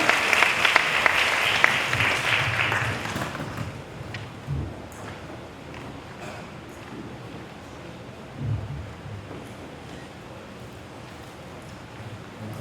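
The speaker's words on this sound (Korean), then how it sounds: "박수로 맞이해 주실 겁니다" An audience at a lifelong-learning city workshop applauds to welcome a speaker, with dense clapping over the first few seconds that then fades to a quieter room with faint noises.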